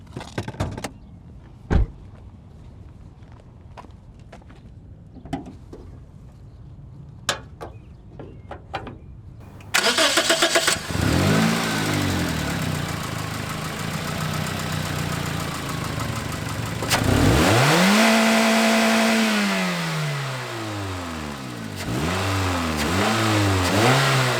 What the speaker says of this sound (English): Now, how does the car sound? How does it idle?